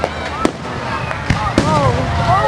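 Fireworks burst at a Rosemead Park show, with a few sharp bangs and crackles ringing out over a steady crowd murmur, with excited voices talking nearby.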